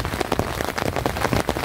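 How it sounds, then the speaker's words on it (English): Heavy rain drumming on a vintage tent during a storm while wild camping, a dense, loud, close patter with irregular bursts of heavier drops. "I said it's really heavy rain outside."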